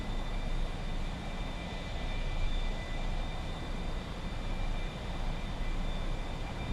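A fighter jet engine roars under throttle in a flight game. The loud, steady, broadband rumble carries a faint whine and stays constant for the whole stretch, with no talk.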